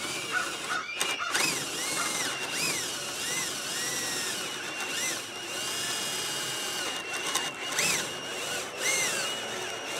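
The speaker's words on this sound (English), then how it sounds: "Now I'm drilling out the holes for the axle on a piece of 2x4." Power drill boring axle holes through a piece of 2x4 lumber for a lawnmower trailer, a steady whining motor with rising and falling pitch sweeps and short pauses, close and alone without talk.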